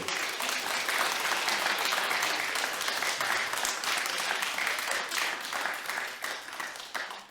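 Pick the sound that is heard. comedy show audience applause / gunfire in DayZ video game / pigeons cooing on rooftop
comedy show audience applause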